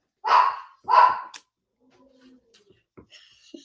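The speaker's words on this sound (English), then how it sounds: "That's my favorite kind of growl." A dog barks twice in close succession, loud and near, then only faint, scattered small sounds follow in a quiet room.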